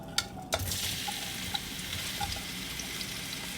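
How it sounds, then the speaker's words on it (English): Onions dropped into hot oil in a heated pan for a fish curry, giving a steady soft sizzle after a couple of clattering thuds as they land, with faint stirring clicks. "I'm going to be adding in my onions"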